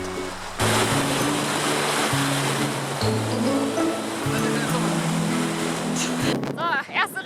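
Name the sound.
river water flowing in Kyrgyzstan's Tien Shan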